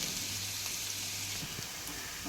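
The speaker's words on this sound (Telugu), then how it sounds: "ఆనియన్స్ ఎగుతూ ఉన్నాయి" Sliced onions frying in hot oil with ginger garlic paste, giving a steady, dense sizzle with a few soft stirring taps, close and continuous.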